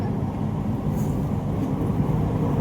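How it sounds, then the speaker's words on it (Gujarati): A train passes near the Viramgam highway, heard as a continuous low rumble of wheels and road noise from inside a moving vehicle, steady and fairly loud, with no talking. "જો ટ્રેન જાય છે હાઈવેમાં છીએ અમે."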